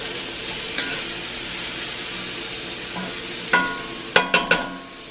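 BBQ pork rice being stirred in a hot cast iron pan: a steady sizzle throughout, then a few sharp scraping clanks of the utensil against the iron toward the end, close and fairly loud.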